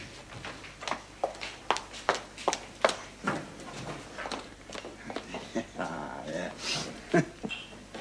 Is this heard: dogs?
yes